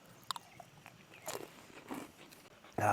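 Close crunchy bites and chewing of a freeze-dried Mountain House ice cream sandwich at a campsite, a few short crisp crunches followed by a louder burst at the end.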